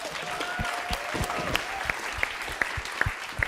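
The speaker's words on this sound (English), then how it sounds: "So please give them a round of applause." An audience at a hackathon closing ceremony applauds prize winners, a steady crowd clapping with a few sharper, louder claps and a whoop standing out near the microphone.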